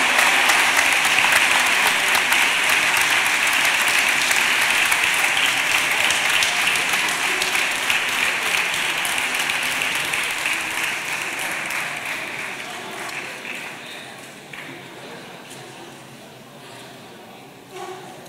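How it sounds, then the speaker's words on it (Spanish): Strong audience applause at the Bornos 2024 carnival proclamation, a dense wash of clapping that holds loud and steady before gradually thinning and fading away toward the end. "¡Un fuerte aplauso!"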